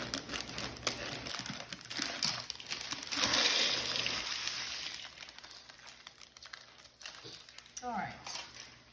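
A bag of bread stuffing cubes being handled and partly emptied out, with crinkling plastic and soft rustling at close range, a dense burst in the middle, under a voice talking throughout.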